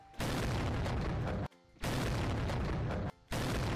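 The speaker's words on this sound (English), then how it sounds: "let's bomb this place" Two loud, close booming blasts from a bomb exploding in the video game Zelda: Wind Waker, each a full, rumbling burst with a brief gap of quiet between them.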